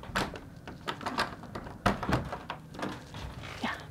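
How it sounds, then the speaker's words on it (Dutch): An old castle-like museum door being opened, with a series of close knocks, thuds and rattling clunks of the handle and wood that come in uneven bursts. "Even kijken of de deur open is."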